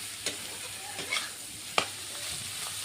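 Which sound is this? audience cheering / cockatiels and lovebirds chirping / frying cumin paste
frying cumin paste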